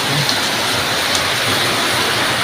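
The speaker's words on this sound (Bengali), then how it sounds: "মানে এরকম বৃষ্টি কোনোদিন কোথাও আশা করিনি ভাই" Heavy rain pours down steadily, a dense, loud hiss of water drumming on surfaces close by, unbroken throughout.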